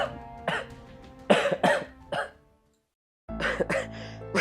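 A young man coughs in a quick series of harsh, close bursts, pauses in silence, then coughs again in another cluster of sharp hacks.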